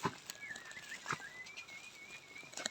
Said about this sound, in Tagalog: Oh, ayan oh, may ibon.